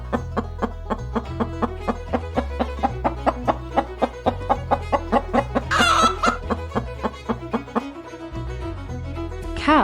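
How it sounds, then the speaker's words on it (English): Farm chicken clucking in a steady rapid series of close, clear calls, with a brief louder squawk near the middle and no talking. "Chicken."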